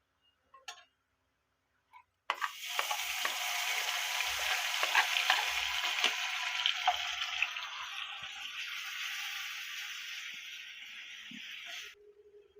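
Spice paste hits hot oil in a pan of pointed gourd and bursts into a loud, steady sizzle that runs for about ten seconds, with a few faint clinks before it and a stirring scrape as it fades.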